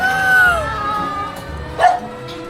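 A dog gives a couple of short barks and yips outdoors, fairly faint under ambient street noise and nearby voices.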